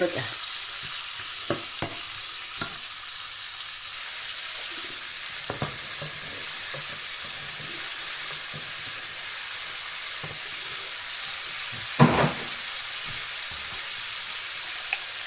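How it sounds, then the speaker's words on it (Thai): Pork, potatoes and mini cabbage stir-fry in a pan with a steady, bright sizzle, broken by a few sharp scrapes and clatters of the spatula, one louder knock near the end. "ปรุงเองผัดเองมันจังสีหอม"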